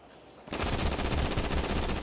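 Rapid automatic gunfire in GTA 5 aimed at a canister: after a brief quiet start, a loud sustained burst of fast, evenly spaced shots rattles on to the end, with no voices over it.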